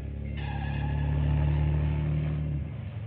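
Car engine running in an old serial, a steady mid-pitched hum with rising tone that swells then drops off near the end, moderately close and alone.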